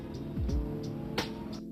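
A car passes by in Mumbai traffic, a brief swelling engine whoosh that rises and falls, close and moderately loud over a steady street hum with a faint horn-like tone.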